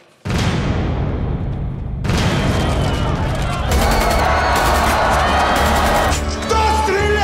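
Gunshots and heavy explosive booms in a Russian film trailer about the Novocherkassk events, a sharp loud blast followed by sustained rattling gunfire and crowd clamor, with shouting voices over the din.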